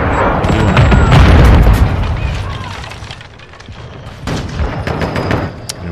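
Rapid bursts of fake gunfire from a decoy grenade in Call of Duty: Modern Warfare II, dense loud shots and booms clustered early, then thinner scattered cracks, with game audio around.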